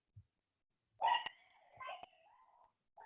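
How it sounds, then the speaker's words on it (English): A few short barks and yelps come from a distance, quiet and scattered, with pauses between them. "I hear some dogs, I think, in the background somewhere."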